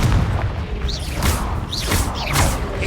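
Repeated Confringo blasting-curse explosions in Hogwarts Legacy, loud booming bursts with whooshing spell effects over continuous dense combat noise.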